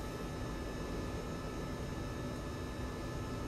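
Steady broadband jet roar from a MiG-21bis engine in the DCS flight simulator, a constant loud rushing hiss with no clear rise, heard alone.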